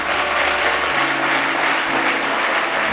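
A church congregation claps loudly and continuously in praise of the Lord, a dense, steady wash of applause from many hands filling the hall, with no voices rising above it.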